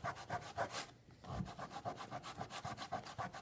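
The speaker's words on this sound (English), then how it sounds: "So you really got to kind of rub it pretty good." Fingers rub dried rubber cement off watercolor paper dusted with salt, producing rhythmic back-and-forth scrubbing strokes, close and faint, with a brief pause in the middle.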